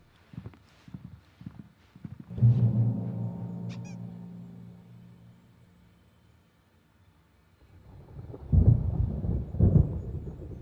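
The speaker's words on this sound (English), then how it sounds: "There's a storm coming. Oh, what a storm." A thunderstorm in Alan Wake Remastered: a heavy roll of thunder swells and slowly fades over several seconds, followed by a second loud rumbling burst, with soft footsteps or knocks before it.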